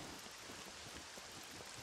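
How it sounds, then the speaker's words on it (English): Steady rain falling in the survival video game SCUM, a soft, even hiss of drops on surfaces that continues unbroken and fairly faint throughout. "No, it's raining."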